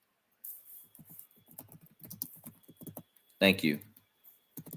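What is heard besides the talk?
typing on a computer keyboard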